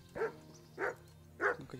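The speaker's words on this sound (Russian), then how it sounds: "где живет кожевник, и у него злые собаки." Three sharp, evenly spaced barks from a tanner's angry dogs in a medieval role-playing game, fairly close and loud over a low steady hum.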